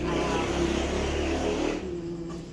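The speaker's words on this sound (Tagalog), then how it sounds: "maingay yung dumaan na sasakyan" Noisy vehicle passing near a house under construction, a loud close engine rumble that fades after about two seconds.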